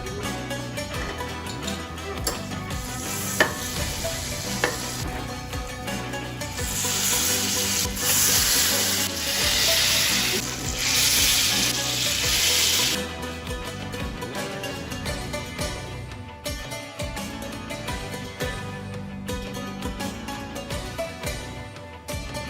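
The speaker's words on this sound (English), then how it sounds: "We're going to fry them in a brown butter, and it's going to be even better." Apple pieces frying in brown butter, a continuous sizzle with stirring and scraping, growing louder and hissier in the middle stretch, then easing back.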